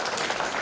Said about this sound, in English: just give them a good round of applause to all the participants